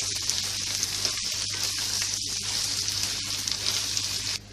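Julienned carrots, green chilies and asafoetida fry together in a pan as they are mixed, a dense, even hiss with scattered soft stirring clicks that drops away abruptly at the end.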